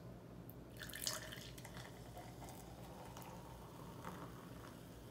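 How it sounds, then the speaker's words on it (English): Root beer poured from a bottle into a glass, a soft liquid trickle and fizz with faint dripping, steady and close throughout, building into a frothy head, no voices. "Let's see how she pours."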